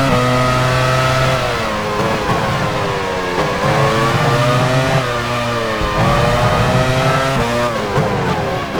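A Formula 1 car in F1 Challenge 99/02 at the 1999 French Grand Prix, Magny-Cours, pulls out of the pit lane, its loud close engine whining and climbing through several gear-like rises and drops.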